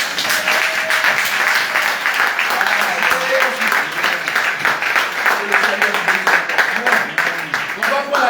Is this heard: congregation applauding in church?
yes